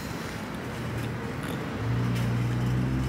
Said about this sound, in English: loud cars going by